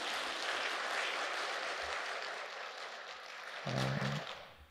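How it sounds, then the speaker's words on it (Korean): A church congregation applauds during a Sunday service, a dense, steady wash of clapping that fades slightly, with a brief low voice near the end. "네, 이럴 때 박수 한번 쳐주셔도 좋으실 것 같은데요."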